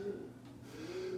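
A pigeon, an indigo bird, gives a soft, low coo close by, a brief murmuring call that wavers and returns, quiet against faint background noise.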